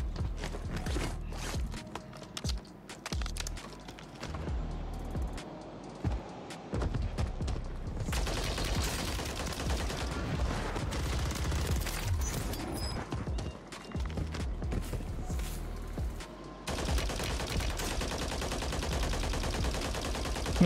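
Gunfire in the Warzone video game crackles in rapid bursts and sustained volleys, mixed with footsteps and movement sounds, loud and fairly constant throughout with brief lulls.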